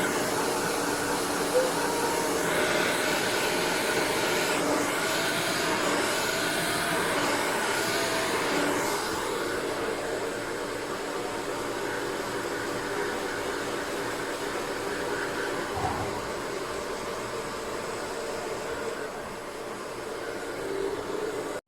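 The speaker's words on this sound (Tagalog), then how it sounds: "So nag-blower ako kasi ayaw ko naman matulog na basa ang buhok ko." A hair dryer blows with a steady, loud whooshing hum that runs throughout, shifting slightly in tone partway through.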